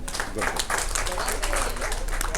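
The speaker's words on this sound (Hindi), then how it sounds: "उसके लिए भी ताली बजा दो" Applause from a crowd at a reunion on a cruise rattles on throughout, with voices talking over the clapping.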